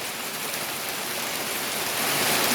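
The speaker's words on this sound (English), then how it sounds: "that's it, a sudden shower." A sudden rain shower pouring down outdoors over a garden, a dense, steady hiss of rainfall that swells slightly louder toward the end, with no talking.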